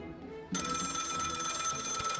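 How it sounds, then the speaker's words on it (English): A telephone ringing in the video game Lil Guardsman, a steady electronic bell trill that cuts in abruptly and continues loud and unbroken over faint background music. "The phone is ringing."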